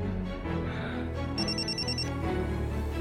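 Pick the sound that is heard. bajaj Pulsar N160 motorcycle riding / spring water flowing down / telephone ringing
telephone ringing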